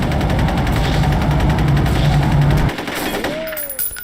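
Machine gun fire in the PC shooter F.E.A.R. Extraction Point: a loud, rapid, continuous automatic burst up close for nearly three seconds, then it stops abruptly, leaving quieter game ambience and a rising whine.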